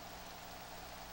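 Rain in the NCAA Football 06 video game makes a faint, even hiss that continues without breaks and has no speech over it.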